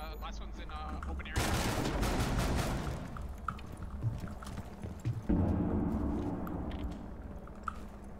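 Bursts of close gunfire, including shotgun blasts, ring out in a Rainbow Six Siege-style tactical shooter match at the Border map's office, with one long volley followed by scattered shots and another burst.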